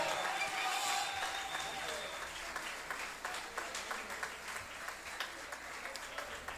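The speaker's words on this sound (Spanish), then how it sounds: "Fuerte el aplauso." An audience at a folk music show in a peña applauds. The clapping is sustained but fairly faint and fades toward scattered claps, and a voice talks over it.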